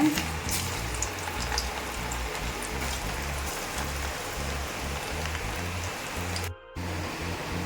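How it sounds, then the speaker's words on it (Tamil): Cauliflower deep-frying in hot oil on a medium flame, a steady crackling sizzle with fine bubbling spatter, close and even throughout, with no voices. "இது எண்ணெய் நல்லா காஞ்சதும் காலிஃப்ளவர் சேர்த்துக்கலாம். மீடியம் ஃப்ளேமில் வச்சு பொரிச்சு எடுத்துக்கோங்க."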